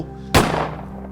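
A rifle shot in a mountain valley cracks out sharply once, close and loud, then rolls into a long fading echo over a steady low background hum.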